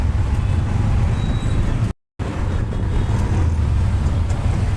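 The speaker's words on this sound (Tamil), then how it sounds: "காலியான ரோட்டில் இவ்வளோ டிராஃபிக் பண்ணுறாங்க" Road traffic on the busy OMR road in Chennai, a steady loud rumble of passing vehicles with a brief cut of silence in the middle.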